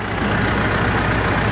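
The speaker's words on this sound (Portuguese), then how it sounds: "Motor funcionando redondo" A Mitsubishi L200 Triton pickup truck with a swapped-in 3.2 engine running steadily at idle, a close, loud, even rumble with no changes in pace and nobody speaking.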